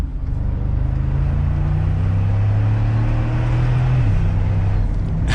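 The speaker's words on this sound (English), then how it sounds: "It has a good rumble to it." Engine of a 2022 Mercedes-Benz G550 in sport mode, a deep continuous rumble with steady low tones that shift pitch as the revs change, loud and close throughout.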